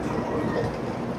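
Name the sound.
Japanese bullet train at station platform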